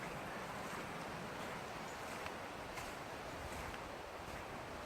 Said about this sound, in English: Wow, it is windy though.